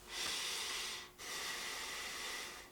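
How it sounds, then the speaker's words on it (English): Two quiet, steady nasal breaths drawn through the nose behind a thin fabric neck gaiter mask, each a soft airy hiss lasting about a second, close to the microphone with no talking. "Breathing through my nose."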